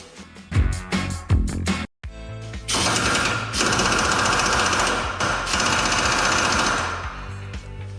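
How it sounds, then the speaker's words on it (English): A pneumatic impact wrench with a chrome 21 mm socket works the top bumper bolts on a GMC truck. A few sharp, irregular bangs come first, then a short gap, then a loud, steady hammering rattle that runs for about five seconds. "I like to use chrome sockets on the impact"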